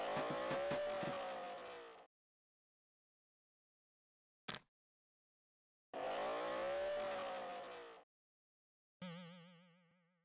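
Upbeat game-style car driving sounds from a Peppa Pig fun fair video game, in two separate bursts of roughly two seconds each with gaps and a short blip between them, followed by a wobbly electronic tone.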